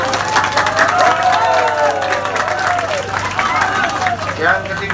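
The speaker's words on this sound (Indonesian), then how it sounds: "Tepuk tangan." Crowd applause fills a meeting hall at the DPRD building in Bangkalan during a humanitarian protest, steady and fairly loud clapping throughout, with voices mixed into the noise.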